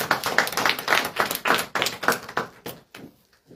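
A church congregation applauding, dense rhythmic clapping that swells in waves and then thins out to a few scattered claps before stopping, close and with no speech over it.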